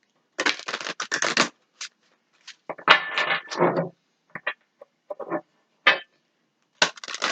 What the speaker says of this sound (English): Going to give them a couple shuffles.